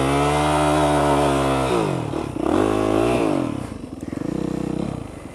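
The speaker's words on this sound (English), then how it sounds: "rev it hard and drop the clutch fully" A dirt bike engine revs hard and loud at close range, its pitch rising and falling as the throttle opens and drops across a few seconds during a stunt riding lesson on dirt, with no talk over it.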